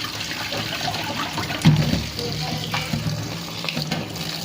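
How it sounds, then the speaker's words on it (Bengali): Tap water runs into a sink as a cabbage is rinsed, a steady close splashing flow with a brief louder gush midway and light handling noises. "এবার আমি বাঁধাকপিটা ধুয়ে নিচ্ছি"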